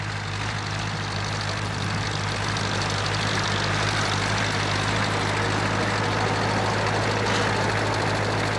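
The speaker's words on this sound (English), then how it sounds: "Using a rented tractor, Chani Ram levels the land for flooding." A rented tractor engine drones loud and steady while levelling alkaline farmland in India, a continuous unbroken rumble with no pauses and no voices.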